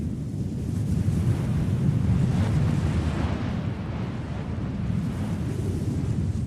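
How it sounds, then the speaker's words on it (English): Ocean waves wash below a heliport cliff in a video game, a steady, low, rumbling surf heard from far below, blended with a broad wind-like hiss. "if you stand by the cliff's edge, you can hear the sound of waves"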